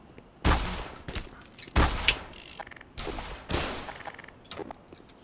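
Revolver gunfire in Black Mesa, four loud sharp shots spaced about a second apart, each with a booming tail, mixed with mechanical clicks and the clatter of reloading between them.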